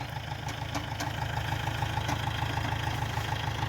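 A Kubota L4508 tractor engine idles steadily with a low rumbling knock, fitted with a sugarcane grab attachment, running close and continuous with no talk.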